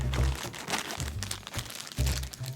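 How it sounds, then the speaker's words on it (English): Plastic bags crinkle and crunch continuously at close range as a disassembled REBOR Ankylosaurus figure is unpacked, with occasional low handling thumps. "he comes disassembled in plastic bags"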